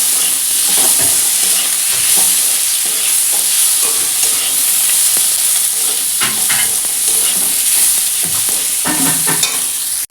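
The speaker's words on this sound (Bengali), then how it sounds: "এবারে এই আলুগুলোকে দিয়ে দেবো। দিয়ে আলুর সঙ্গে সব আবার মিশিয়ে নেব।" Potatoes frying with spice masala and stirred in a pan, a loud, steady sizzle close by with repeated scraping strokes of the spoon, no talking.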